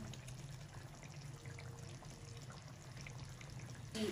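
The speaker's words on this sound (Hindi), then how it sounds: "इसके अंदर हम शामिल करेंगे आधा पाव दही।" Yogurt, half a pav, poured into a simmering chicken karahi, giving a soft, steady wet pour and trickle with low pan sizzle beneath, ending in a brief louder splash.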